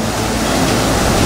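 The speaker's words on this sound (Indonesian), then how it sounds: "Air mengalir deras hingga menyebabkan sungai meluap dan menumbangkan pepohonan." Floodwater in Northern China rushes fast enough to overflow a river and topple trees, making a loud, continuous broadband roar with no pauses.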